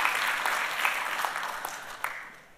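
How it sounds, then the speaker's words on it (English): A church congregation claps steadily in a room, a moderate continuous applause that slowly tapers off near the end. "Let's give them a round of applause."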